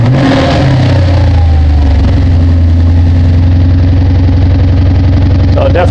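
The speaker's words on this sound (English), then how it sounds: "So now we're going to start the engine, make sure that the voltage goes up." A 2008 Lexus IS F V8 cranks and settles into a loud, steady idle right after starting, the engine close and continuous, with faint voices talking under it.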